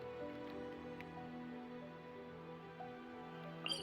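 Steady downpour in the video game Genshin Impact hisses evenly throughout, with a few faint drips and small clicks standing out near the end; no voices.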